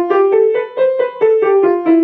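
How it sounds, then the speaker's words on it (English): Heavy, clunky piano notes struck one after another in an even, thudding rhythm, about eight loud, near notes with a blunt attack and little gap between them, played alone. "So, clunky finger sounds like this."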